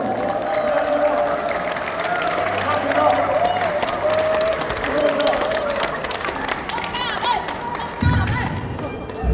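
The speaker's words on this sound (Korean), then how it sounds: "여러분 박수 부탁드리겠습니다" Applause breaks out from a large crowd at a club's seventh-anniversary party in a big venue, a dense clatter of clapping over a steady tone, with a few voices and a thump near the end.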